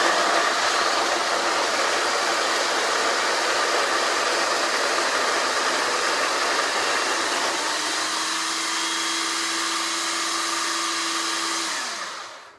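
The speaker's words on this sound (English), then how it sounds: "you need to set the grinder at a coarse grind. Then you simply grind." A coffee grinder set to a coarse grind chews through cleaning tablets, a loud steady whirring motor roar held for about twelve seconds, then a brief falling tone as it winds down and stops.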